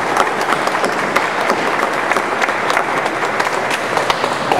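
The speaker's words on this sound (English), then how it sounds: "So that deserves a round of applause right there." Sustained crowd applause fills a 2011 Rite Aid Cleveland Marathon Friday night celebration, dense steady clapping at even loudness from start to finish with no break.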